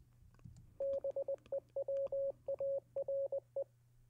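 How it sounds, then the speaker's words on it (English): A steady tone beeps in short and long pulses, a quick Morse code sequence heard clearly over a faint low hum. "That's Morse code and beware."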